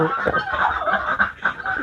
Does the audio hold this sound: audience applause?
no